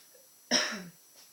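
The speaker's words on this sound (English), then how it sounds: "excuse the coughing" A single close, short cough from someone coming down with a cold breaks a quiet moment, with a faint rasp trailing off afterward.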